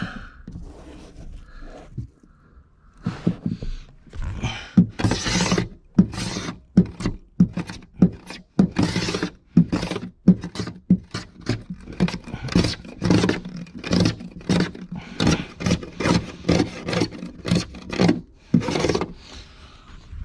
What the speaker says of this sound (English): Scrapey, scrapey.